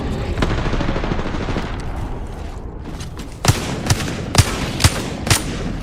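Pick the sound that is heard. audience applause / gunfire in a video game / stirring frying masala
gunfire in a video game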